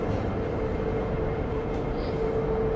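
An MTR train sits at a Hong Kong metro station, giving a steady broadband rumble with a faint sustained tone, close and continuous, with no voices over it.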